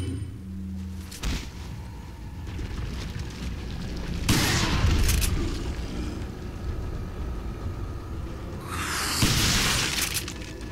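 Shotgun blasts in Resident Evil, two heavy bursts with a long crashing, shattering tail standing out over a dense, noisy game soundscape.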